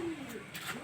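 Pigeons coo softly at a distance, a low murmuring call drifting in and out over faint background noise.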